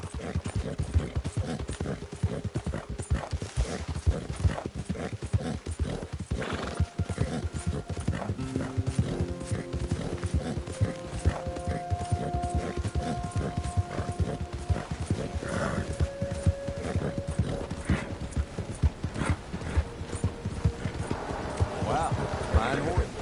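Steady clip-clop of horse hooves in the video game Red Dead Redemption 2 runs throughout, with brief tonal game-like chimes and music over it; no clear neigh stands out.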